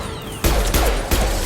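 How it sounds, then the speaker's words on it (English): Concussive shots in the Mass Effect Legendary Edition video game land as two heavy, booming blasts in quick succession, loud and close over sustained combat noise. "Firing concussive shots."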